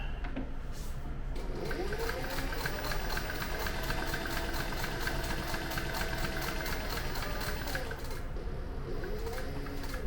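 A sewing machine stitches a leather tote bag, its rapid, even mechanical chatter running continuously and fairly quietly close by, with no talking.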